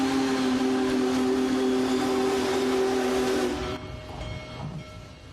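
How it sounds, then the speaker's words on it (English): Union Pacific Big Boy 4014 steam locomotive pulling a train out of Houston, its whistle sounding a loud sustained chord over the chugging rumble for several seconds before cutting off, leaving the fainter roll of the train. "The Union Pacific Big Boy steam locomotive left Houston today, pulling the George H.W. Bush train on its way to College Station"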